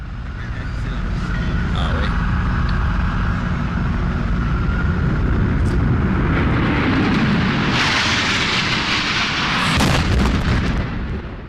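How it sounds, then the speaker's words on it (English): A passenger jet strikes the South Tower of the World Trade Center, heard as a loud, sustained roar and rumble with a heavy explosive swell near the end, steady and dense throughout with no clear speech. "The second plane hits the South Tower between the 78th and 82nd floors at 9:03 a.m."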